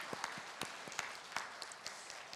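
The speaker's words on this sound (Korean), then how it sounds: "우리 감사하다고 박수하겠습니다." A church congregation applauds during a Sunday service, a quiet, scattered round of clapping with distinct individual claps over a soft patter.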